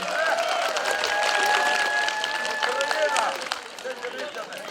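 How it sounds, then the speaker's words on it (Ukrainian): An audience claps at a Ukrainian Trinity (Green Holidays) festive gathering as a young woman in modern embroidery is introduced, dense steady applause with crowd murmur that thins and fades toward the end. "Оплески Яні!"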